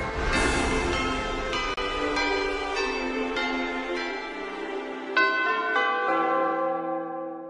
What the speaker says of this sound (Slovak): Zvony nad krajinou.